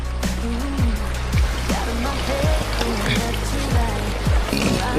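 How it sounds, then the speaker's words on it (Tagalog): Continuous rushing water fills the background, steady and fairly close, while people talk and exclaim over it. "May narinig na akong tubig, agos ng tubig"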